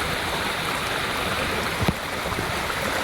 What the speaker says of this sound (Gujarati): પાણીનો વહેણ જોઈ શકો છો